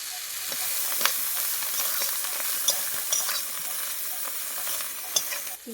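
Prawns dusted with turmeric sizzle and crackle steadily in hot oil in a pan, with occasional stirring clinks and no talking.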